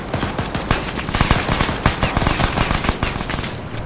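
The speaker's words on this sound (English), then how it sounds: "We are shooting each other." Dense, rapid gunfire crackles close and loud throughout a friendly-fire exchange in Arma 3, sharp shots packed into continuous bursts with no talk.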